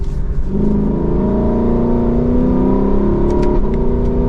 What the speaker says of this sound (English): gives us that very popular, naturally aspirated V8 engine